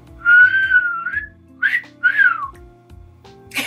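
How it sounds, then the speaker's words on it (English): A person whistles a few short melodic phrases, clear and close, with gaps between them and a faint low hum underneath. "What's up with me whistling today?"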